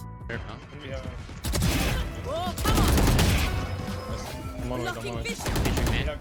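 Rapid gunfire crackles through a close-quarters gunfight in the tactical shooter Valorant, with bursts of shots and impacts layered under steady commentary.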